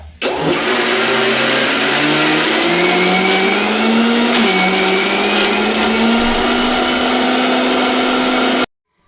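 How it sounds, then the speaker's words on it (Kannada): A mixer grinder churns cream, collected over several days, into butter for ghee. Its loud, steady motor whirs nearby, climbing slightly in pitch, then cuts off abruptly at the end. "ಮಿಕ್ಸಿಲಿ ಮಾಡ್ಕೊಳ್ಳೋದು ಏನಕ್ಕಂದ್ರೆ ಈಸಿ ಆಗುತ್ತೆ ಬೇಗ ಕೂಡ ಆಗುತ್ತೆ ಅಂತ"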